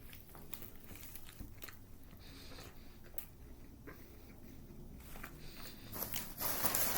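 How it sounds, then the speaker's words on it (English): Someone eats a sandwich close by, with soft bites and chewing crunches scattered through quiet background rustle, growing louder near the end. "I'm just eating a sandwich, and you guys have to watch me eat a sandwich"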